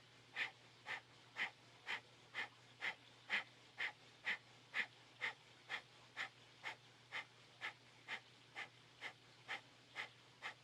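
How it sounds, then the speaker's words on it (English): Rapid, rhythmic Kundalini yoga breath of fire: about two short, forceful breaths per second, steady and evenly spaced for the whole stretch, close and fairly quiet over a low steady hum, with no talking. "Breath of fire."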